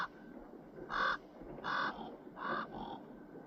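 Wild ravens in snowy countryside give a series of three to four hoarse, throaty croaks at a steady spacing, fairly close and clear over a soft outdoor hiss.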